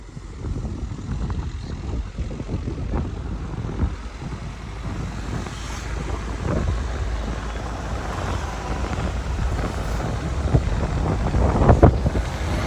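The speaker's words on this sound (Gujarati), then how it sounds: "ઠંડો પવન છે" Cold wind blowing outdoors near Amer Fort, a rough continuous rumble of gusts buffeting the microphone, loud and unbroken throughout with no voices.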